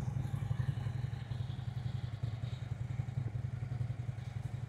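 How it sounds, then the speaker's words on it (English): A motorcycle at a slow-speed riding practice session chugs with a low, steady engine pulse and small throttle blips, fairly faint and distant, with no talk. "you didn't notice, Jerry's a throttle blipper, so his bike's gonna be doing this"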